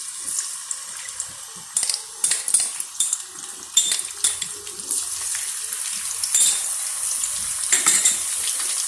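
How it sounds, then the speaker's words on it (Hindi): Garlic paste frying in hot oil in a karahi, a soft steady sizzle broken by repeated clinks and scrapes of a metal spoon against the pan, close and moderately quiet, with no talking. "कढ़ाई में ऑयल गरम करेंगे और इसमें शामिल कर देंगे लहसुन का पेस्ट"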